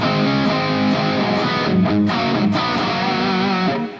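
Distorted electric guitar chugs steady palm-muted pedal tones on A, dense and loud with sus4 chord changes ringing over the low note, continuous for about four seconds before cutting off.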